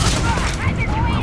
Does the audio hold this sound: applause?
no